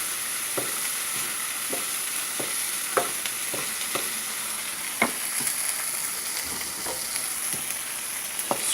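Food is stirred and scraped in a cooking pan with crab and eggs outdoors, giving sharp intermittent scrapes roughly every half second over a constant hiss of sizzling, up close and with no talk.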